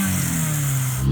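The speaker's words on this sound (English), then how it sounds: "Engine sounds phenomenal." A four-cylinder American tuner car engine that revs to 7000 RPM runs steadily with a constant low hum, close and fairly loud, swelling slightly at the end.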